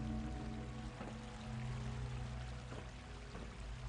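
A waterfall pours beneath glass stairs in the video game Fallout 4, a soft, continuous rushing of falling water with a low steady rumble, faint and unbroken.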